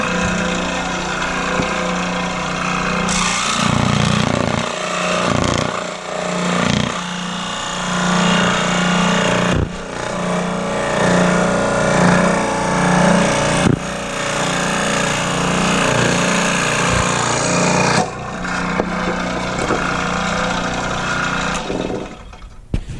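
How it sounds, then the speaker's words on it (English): A scroll saw, a jigsaw-style power tool, runs with a loud, continuous buzzing drone. It holds steady for the whole stretch, with only brief dips in level. "Here's a scroll saw, and you would probably recognize it as a jigsaw. Let's turn it on."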